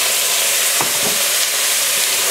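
Venison stew being stirred in a pot after a pinch of salt, a steady bubbling sizzle underneath with a couple of distinct scraping stirs near the middle, close and alone.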